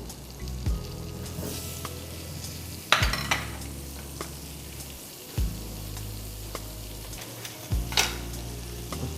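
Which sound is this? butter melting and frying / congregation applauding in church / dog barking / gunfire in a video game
butter melting and frying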